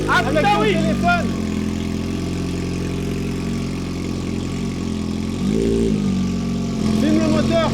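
A loud motorcycle engine runs steadily close by, rising briefly in pitch a couple of times, while voices talk over it.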